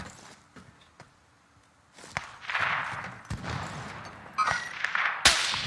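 Video game gunfire in an online shooter match, scattered sharp shots and short bursts at moderate volume, mixed with thuds and movement noise, with no talking.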